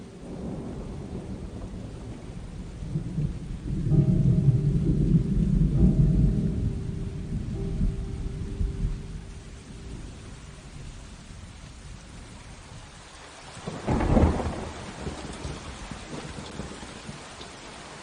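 Rain falls steadily through a thunderstorm, with a deep rumble of thunder swelling early on and a sharper, louder thunder crack near the end; no voices.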